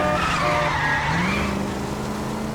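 A car in a chase in L.A. Noire skids with a loud, sustained tire squeal that bends in pitch over a steady engine roar, heard alone without talk.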